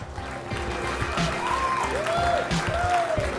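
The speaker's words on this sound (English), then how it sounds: "a round of applause for these two semi-finalists" An audience at a Clash Royale tournament in Helsinki, Finland claps and cheers in sustained applause, with a voice talking over the crowd noise throughout.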